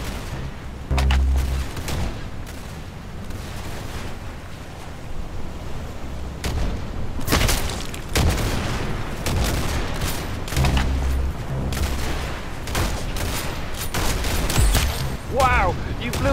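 Gunfire in the Roblox game Arsenal, with dense bursts of shots and booming impacts running throughout at a steady loud level, while a voice talks over the action.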